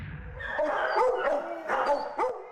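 Several dogs bark and yip in short excited bursts, with whimpering between them, fairly close and clear.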